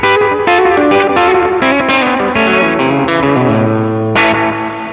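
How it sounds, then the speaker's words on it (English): A distorted electric guitar plays steady chords through a Boss Waza pedal set to a short 300 ms analog slapback delay. The sound is loud and continuous, with a tight echo tail that blends into the sustained chords. "we are literally getting that original 1981 really short 300 millisecond analog delay"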